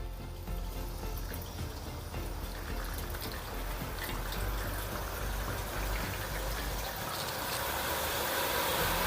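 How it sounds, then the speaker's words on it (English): Steady rushing and trickling of water draining off a louvered pergola roof, continuous and fairly close, growing slightly louder toward the end. "And there you go, I can hear the water draining."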